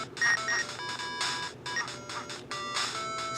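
Repeated bursts of electronic ringing tones with a steady high whine, pulsing in uneven clusters like a phone ringtone, in Game Boy Pit-Fighter audio.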